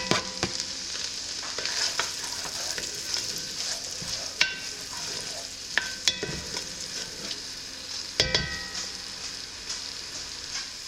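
A small chopped onion cooks in a pot for old-fashioned chicken and dumplings, making a soft, steady sizzle with occasional sharp clicks and scrapes from stirring, and no one talks.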